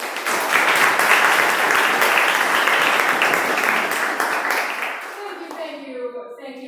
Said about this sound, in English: would you give us a quick round of applause for Rachel Shearer.